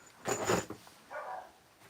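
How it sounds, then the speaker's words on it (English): A dog gives one fairly close bark followed by a softer, shorter second yelp, against a quiet background. "And there goes my dog again. There goes my doggy."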